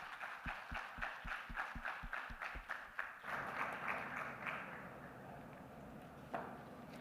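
Scattered, rhythmic claps from a few people at a maritime conference panel, building into broader, quieter applause from the audience, fairly faint and distant in the room.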